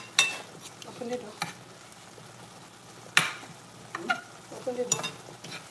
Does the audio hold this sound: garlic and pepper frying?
yes